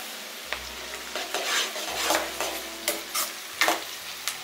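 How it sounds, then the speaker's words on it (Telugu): Chopped onions frying in a pan with mustard seeds and curry leaves for a masala curry, giving a steady sizzle broken by repeated scraping stirs, close and moderately loud with no one talking. "ఆనియన్స్ ఫ్రై అయ్యేంత వరకు 1-2 మినిట్స్ కుక్ చేసుకోవాలి"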